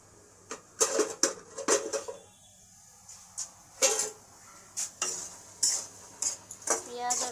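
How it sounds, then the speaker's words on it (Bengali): Ginger, garlic and onion paste frying in a pan, heard as repeated bursts of scraping and clanking as a spoon stirs it, each burst followed by a quieter sizzle, no speech. "আদা রসুন পেঁয়াজের পেস্টটা আমি ঢেলে দিলাম, দিয়ে এটাকে ভালো করে আমি ভাজবো"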